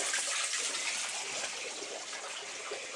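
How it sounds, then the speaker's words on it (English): Water runs out of the ground inside the Rocky Mountain mine tunnel in Beechworth, Australia, making a steady, close, broad rushing wash with no pauses. "there's still a bit of water coming out from the ground out there"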